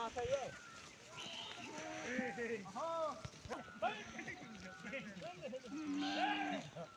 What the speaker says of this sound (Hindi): ये है बुग्याल को जाने वाली भेड़ बकरियां।